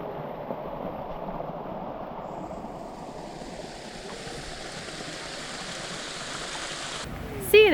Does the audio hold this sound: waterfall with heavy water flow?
yes